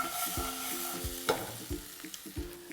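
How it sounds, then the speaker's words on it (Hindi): Small and large green chillies roast with salt in a hot pan for a green chutney, making a close, continuous sizzle broken by repeated clattering stir strokes. "मिर्च को भूनना है हमें।"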